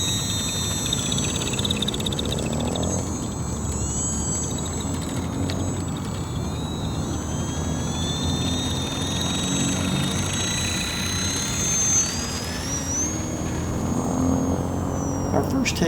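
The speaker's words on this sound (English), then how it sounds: "the screws that hold the two tail wheel halves together actually rub up against the landing gear wire, so that's the sound that you were hearing" Steady mechanical rubbing from the screws of a large split tail wheel scraping against the landing gear wire on an H-King Savage Bobber compact STOL model airplane, 1000mm span. It runs continuously under wind and motor noise outdoors.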